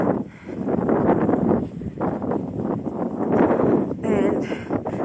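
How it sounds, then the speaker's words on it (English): Strong wind buffets the microphone on the open hilltop edge at Curbar Edge, a loud, surging low roar with rushing gusts that never lets up. "The wind too is very strong, that we are afraid to be blown away."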